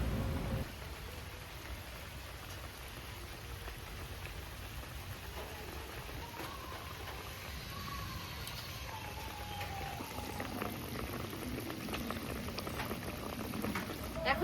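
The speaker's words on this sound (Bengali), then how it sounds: "মাছটা দিয়ে আমি ফুটিয়ে নিয়েছি ভালোভাবে" Rohu fish curry bubbling in a pot, a soft continuous boiling hiss with faint pops, quiet and steady throughout.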